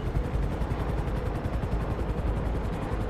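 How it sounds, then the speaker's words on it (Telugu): Police helicopters approach in the video game GTA 5, their rotors beating in a fast, even pulse over a dense, rumbling wash that holds steady and loud the whole time. "హెలికాప్టర్స్ వస్తున్నాయి"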